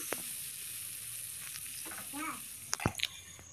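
Chicken meat fries dry in a pan with no added water, giving a steady high hiss and sizzle, while a few stirring scrapes and clinks come near the end.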